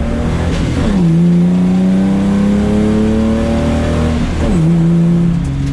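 A car engine in a Mustang-based project car, now running without misfire, revs up loudly and holds a smooth, rising pitch before dropping back and revving again, close and alone.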